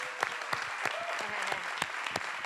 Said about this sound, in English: round of applause for Udayan